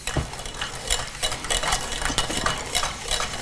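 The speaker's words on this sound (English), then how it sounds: "I'm gonna whisk that all in there and get all that garlic." A whisk stirs minced garlic through a mixture in a home kitchen bowl, giving steady scraping and clinking strokes against the sides, close and continuous with no talking.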